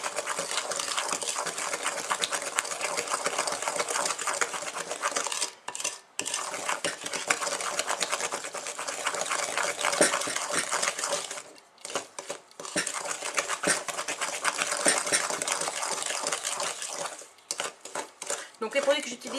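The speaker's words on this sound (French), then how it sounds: "Donc nous allons bien remuer environ 2 minutes." Softened butter is stirred in a bowl with a utensil, making continuous close scraping and clinking that runs steadily with a few brief pauses, under someone talking at times.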